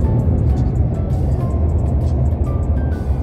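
A Harley-Davidson motorcycle passes on a road in Austin, Texas, its steady low engine rumble filling the scene with constant traffic noise around it.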